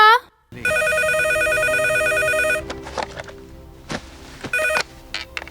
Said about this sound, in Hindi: गीता फोन उठाओ